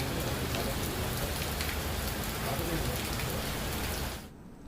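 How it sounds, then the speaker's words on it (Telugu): Heavy rain, with hail, pours down in Hyderabad during a cumulonimbus storm. It makes a dense, steady hiss of drops striking surfaces that holds for about four seconds and then cuts off. "ఎక్కడికక్కడ వడగండ్ల వానలు పడుతున్నాయి"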